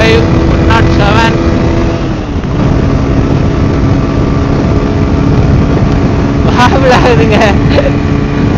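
A TVS Apache RTR 160 4V motorcycle rides in fourth gear: a loud, steady engine drone with rushing wind roar close to the rider, and a few brief rising engine whines.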